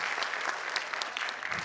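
Audience applause at a Shambhu coronation ceremony event in Maharashtra, steady clapping from a crowd throughout, dense and continuous with no talk over it.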